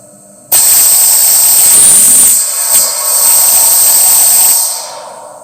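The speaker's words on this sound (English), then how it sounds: "I'm going to show you how this engine is operating." A small rocket engine test firing: a loud, steady roaring hiss bursts on suddenly, holds for about four seconds with a brief dip midway, then cuts off. No voices.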